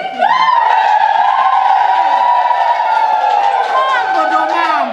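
A crowd at a land title deed ceremony in Makete, Tanzania, breaks into loud, sustained, high trilling ululation, several voices overlapping close by for about five seconds.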